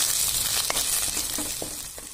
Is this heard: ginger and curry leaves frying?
yes